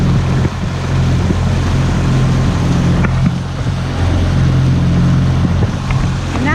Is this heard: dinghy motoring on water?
yes